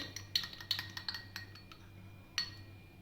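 A spoon clinks against a bowl while black bean salsa salad is stirred with olive oil and honey, several sharp taps spaced irregularly over a quiet background, clear and close.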